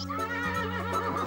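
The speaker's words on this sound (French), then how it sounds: "Julius, le cheval, qui pousse son premier hennissement de la matinée" A horse on a farm whinnies once, a long, shaky, high-pitched neigh heard up close and fairly loud, with no talking.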